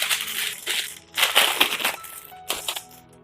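A Hello Kitty sticker sheet for a two-burner stove crinkles and crackles as it is handled, in bursts of bright, crisp rustling with brief pauses between, close and fairly loud.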